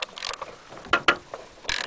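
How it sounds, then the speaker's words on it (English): A socket ratchet clicks and turns against the bar nuts of a Stihl chainsaw, giving short mechanical ratcheting bursts and a few sharper metallic clicks, close and fairly quiet. "On most of them, but not all, you need a 3/4 socket and a ratchet."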